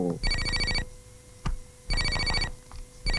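A telephone rings in a comedy film scene with repeated bursts of electronic trilling separated by short pauses, near and clear, with a faint click between rings.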